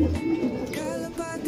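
Racing pigeons coo close by in a soft, steady low murmur, with a few faint higher calls over it.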